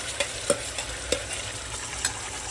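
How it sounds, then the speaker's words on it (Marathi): Mutton fries with spices in a pan while a spoon stirs it, a continuous close sizzle broken by a few sharp scraping knocks spaced irregularly, no talking. "आता हे आपण चांगलं हलवून घेऊया व्यवस्थित"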